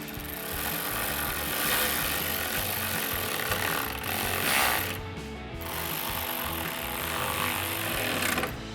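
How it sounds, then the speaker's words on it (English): A power driver runs in two T15 Torx screws on a black-housing LED tail light for a 2019-2024 GMC Sierra 1500. It whirs and ratchets up close in two long runs with a brief pause between them. "Then we can go ahead and reinstall our 2 T15 Torx screws."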